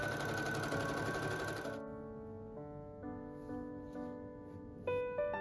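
A sewing machine runs a straight-stitch side seam on a satin skirt as a dense whirring burst of under two seconds, then stops, leaving a quieter stretch of steady tones.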